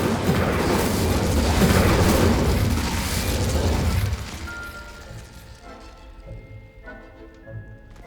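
A roaring burst of flame from the Incendio fire spell in Hogwarts Legacy blazes loudly for about four seconds, then fades into quieter game ambience with faint chimes.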